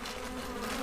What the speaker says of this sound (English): why you're not letting the bees that are loose go into the bag